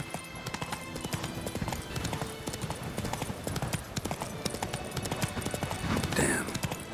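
Roach the horse gallops in The Witcher 3, hooves clip-clopping in a steady rapid rhythm under a game soundtrack, with a brief rising whoosh near the end.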